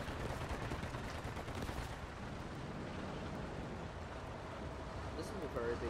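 Gunfire in the War Thunder video game, a dense continuous crackle of shots and rumbling blasts filling the whole stretch at steady loudness, with a voice talking over it.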